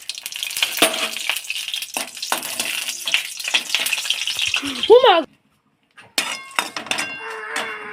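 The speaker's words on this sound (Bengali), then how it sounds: "আমি মশলাগুলো মানে এই যে পেঁয়াজ রসুন আর লঙ্কাগুলো ভেজে নেব" Onion, garlic and chillies fry in hot oil in a wok with a strong close sizzle and light clinking, then a short silence and a few sharp clatters as frying resumes; a voice is briefly heard.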